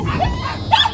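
A dog at an animal rescue shelter in Golmud gives a couple of brief yips and whimpers close by, heard against a murmur of background noise.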